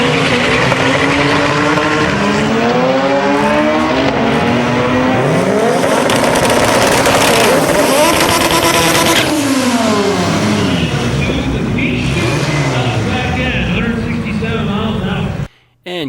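Turbocharged B-Series import drag car at a drag racing event, engine loudly revving and climbing in pitch as it launches and pulls away, with a commentator talking over the roar throughout.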